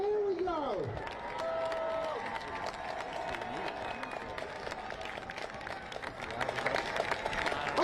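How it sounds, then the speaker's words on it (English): Crowd cheering and applauding for rowers passing along the course at the Head of the Charles regatta, a loud, sustained roar with clapping and shouts, with an announcer's voice at the start. "Let's make sure we give them the biggest cheer as they come down."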